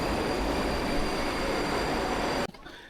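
Tashkent metro train roaring loudly and steadily with a broad rumbling rush and faint high whine, then cutting off abruptly into a much quieter station ambience near the end.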